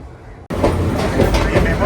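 Guntur–Rayagada Express rolling along the tracks: a loud, steady rumble of the moving train kicks in abruptly after a brief quieter moment and continues without break.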